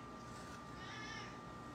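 A pet cat meows in a kitchen during food prep, its call fairly faint and drawn out, rising a little toward the middle against a low background hum.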